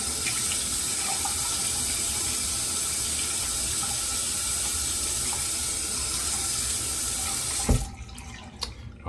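Water runs steadily from a tap to wet a shaving brush, a continuous close splashing stream that cuts off abruptly near the end, leaving faint handling sounds.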